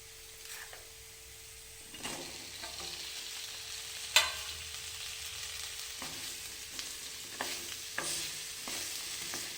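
Cut okra pieces fry in a pan on a village-style stove, giving a faint steady sizzle broken by several scraping stirs of a spatula, close and quiet.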